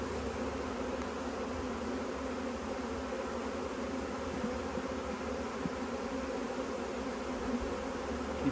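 A swarm of honey bees hums steadily around a hive box with frames, a dense continuous buzz that stays even and close throughout.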